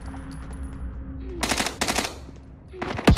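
Rapid bursts of automatic gunfire in the Warzone video game, two close volleys in the middle and another near the end, loud over a steady background hum.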